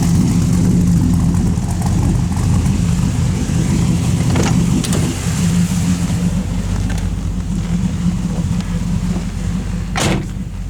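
A 6.0 LS V8 swapped into an Oldsmobile Custom Cruiser wagon, a loud, constant low rumble of the engine running close by with no voices over it.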